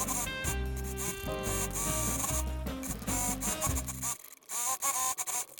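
A sewing machine runs close by, stitching ribbon onto a fabric tote bag in a rapid mechanical whir, then stops, and a few short bursts and fabric handling sounds follow.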